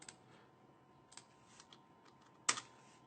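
Code typed on a computer keyboard, with a few faint, sparse key taps followed by one sharper, louder keystroke near the end, heard alone in a quiet room.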